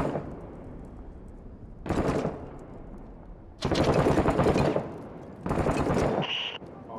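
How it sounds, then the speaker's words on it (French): Enemy gunfire in the video game Six Days in Fallujah comes as three long, loud automatic bursts separated by quieter stretches of rumbling background noise, with no talking. "Il y a des mecs qui tirent au niveau du nord en contrebas là"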